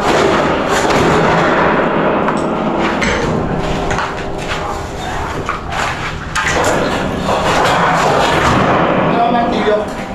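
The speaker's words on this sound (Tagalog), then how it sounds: "Martilyo." Repeated sharp metallic strikes of a hammer ring out, loud and close, in an irregular rhythm over steady background noise, hammering a brake onto a beam.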